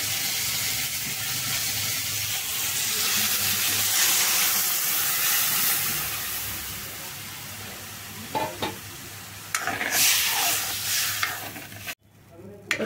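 A simmering curry of greens and snakehead fish, with soda and rice flour stirred in, bubbles and sizzles steadily while a spoon scrapes the pan. Sharper clatters and knocks come near the end.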